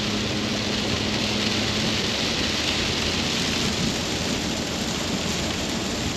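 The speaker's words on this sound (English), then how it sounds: "It's been raining non-stop since early this morning." Steady rain pours down on a farm, a dense continuous hiss of drops with a low rumble underneath, even and unbroken throughout.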